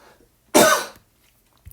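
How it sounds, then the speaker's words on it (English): A single sharp cough, loud and close, lasting under half a second and followed by quiet, during a statistics lecture. "about to cough."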